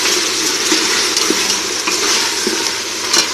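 Masala spices sizzle and fry in a pan for a stew while being stirred, a loud steady crackling hiss with occasional soft scrapes and clinks of the spoon against the pan.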